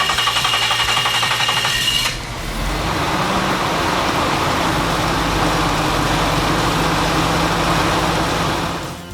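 A Nissan 300ZX Z1 engine with an idle fault cranks with a whining starter for about two seconds, then catches and settles into a steady, close, rough idle.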